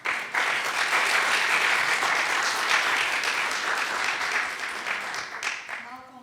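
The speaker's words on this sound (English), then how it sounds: "Please give them a big applause once again." Sustained, loud applause from a symposium audience at the close of a youth climate and nuclear justice session, steady clapping that tapers off near the end.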